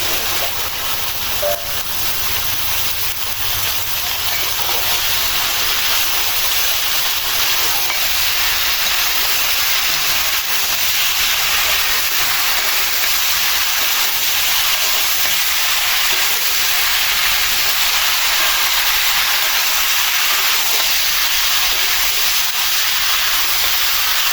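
Radish and potato hitting a hot pan of spiced oil, giving a loud, continuous hissing sizzle that holds steady from start to finish.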